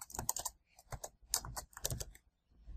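Quick bursts of keystrokes on a computer keyboard as a project name is entered, close and crisp with short pauses between clusters and a final few taps, nobody talking.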